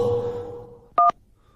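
A telephone keypad sounds two short, loud dial tones in quick succession after a fading hum, then silence.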